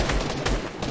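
Loud, dense gunfire in a Fortnite-style building battle, a quick clatter of overlapping shots filling one second.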